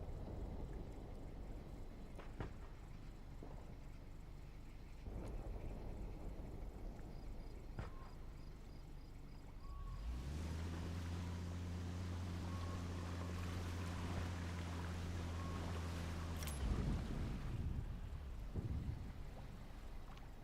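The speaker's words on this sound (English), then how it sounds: "Now, let's dock the boat here. Pull the boat up to the dock and switch the engine off." A boat engine in Hell Let Loose: Vietnam rumbles to life mid-clip while the boat is brought in to dock, droning steadily for several seconds before cutting off abruptly, leaving quiet ambient water and wind.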